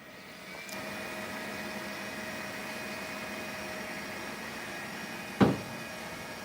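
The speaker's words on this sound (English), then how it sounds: "you see how loud this printer is? It's pretty annoying." A Creality K1 Max 3D printer runs with a loud, steady whirring drone. A single sharp click cuts through it near the end.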